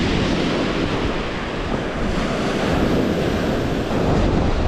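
Steady wash of waves on a Lake Erie beach in February, a continuous loud surf roar mixed with wind buffeting the microphone, with no talking.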